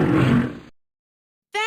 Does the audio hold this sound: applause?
no